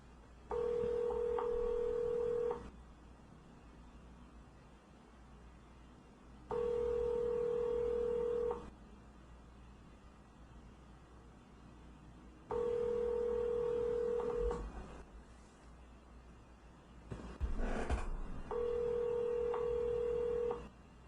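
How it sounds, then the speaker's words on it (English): Telephone auto-dialer placing an outgoing call through Twilio: four evenly spaced bursts of steady tone, each about two seconds long, separated by quieter gaps over a low background hum. "so the next call is dialing out now"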